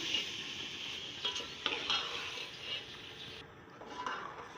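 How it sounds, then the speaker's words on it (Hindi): Vegetables for tikka macaroni fry and sizzle softly in a pan at moderate distance. Occasional stirring scrapes and clinks break the steady hiss, with no talk. "अब हम इसको 3-4 मिनट के लिए अच्छे तरीके से फ्राई करेंगे"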